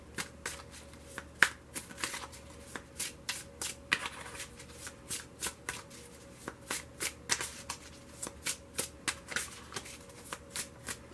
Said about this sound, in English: Let's make sure these are good and shuffled.